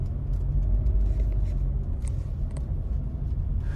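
Steady low-frequency road rumble fills the cabin of a 2021 Honda Civic Turbo Hatchback RS on the move, a continuous even drone with a few faint higher ticks and no talking.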